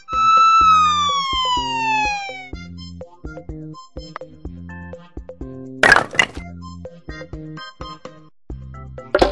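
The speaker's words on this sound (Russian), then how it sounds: "Полицейская машина." Cartoon police car siren wailing in one long falling tone, then giving way to loud background music with sharp cracking hits partway through.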